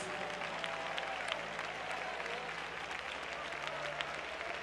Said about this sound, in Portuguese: batam palmas e glorifiquem a Jesus